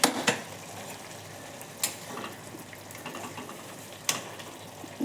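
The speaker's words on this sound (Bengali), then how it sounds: "এখন ঢাকনাটা তুলে দেখাচ্ছি" A metal lid lifted off a pot of cabbage simmering on the stove, a few sharp clanks against soft bubbling and sizzling kitchen background, with another clink near the end.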